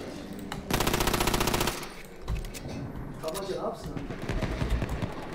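Full-auto pistol in Battlefield 1, heard as a loud, rapid, continuous burst of gunfire, then scattered shots and more bursts, with someone talking over the action.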